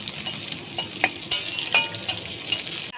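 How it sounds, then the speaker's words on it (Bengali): Onions fry in a hot wok with a continuous near sizzle, punctuated by repeated clinks and scrapes of a spoon stirring against the metal. "পেঁয়াজটা কিছুক্ষণ ভাজা হবে।"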